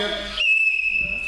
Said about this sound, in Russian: Сейчас, Вика, свистнет.